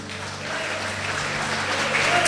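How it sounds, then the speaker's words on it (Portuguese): A church congregation applauds, a steady, fairly loud wash of clapping that holds and swells slightly toward the end. "aplauda o Senhor com o seu melhor"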